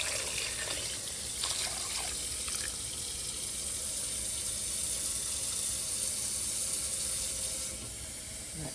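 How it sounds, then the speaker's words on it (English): Water pours steadily into a pot of chicken vegetable rice soup, a continuous close splashing hiss that keeps going for most of the stretch and then eases off near the end. "Adding the water."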